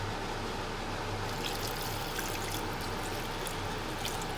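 Water pours steadily from a container into a cooking pot for homemade oxtail soup, a continuous close splashing rush that holds evenly throughout with no voices.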